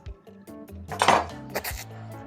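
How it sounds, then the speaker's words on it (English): A metal spoon clatters and scrapes against the inner pot of an Instant Pot holding shredded meat, with a loud burst of clinking mid-clip and a second smaller clatter after, close up with no talking. "Oh no! I'm losing the spoon!"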